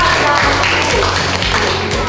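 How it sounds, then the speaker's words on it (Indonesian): A classroom of students claps for a classmate during a lesson. The dense, close clapping fills the short burst without pause. "Kasih tepuk tangan dulu Binta."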